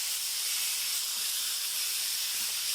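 Rump steaks searing in a hot pan, a steady, bright sizzling hiss that stays even and close for the whole moment, with no voices over it.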